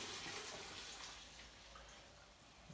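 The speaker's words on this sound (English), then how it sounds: "So I'm literally just going to pour our" Sugar wash pours steadily into a container while a hand sanitizer distillation batch is prepared, giving a continuous soft splashing and gurgling liquid noise, quiet and close, with no talking.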